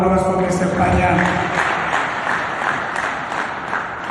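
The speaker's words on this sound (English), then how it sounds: "another round of applause for Mr. Panyani" Audience applause at a municipal investment summit for the Matjhabeng Local Municipality, steady broadband clapping from a hall full of people, fairly loud and continuous, tapering slightly toward the end.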